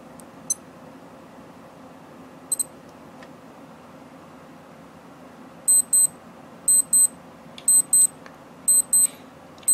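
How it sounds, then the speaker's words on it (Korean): A Casio Pro Trek PRW-3500T watch alarm sounds in short, thin, high beep bursts, first sparse and then in a quick repeating rhythm of paired chirps, close and clear over a faint background hiss. "알람음 역시 10초간 알림음을 울려주고, 알람 표시를 깜빡임으로 알려주고 있습니다."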